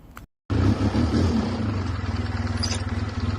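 A nearly brand-new ASCS 360 sprint car engine fires for the first time: a brief silence, then it catches abruptly into a loud, close, lumpy idle with a pulsing, throbbing rhythm that continues steadily.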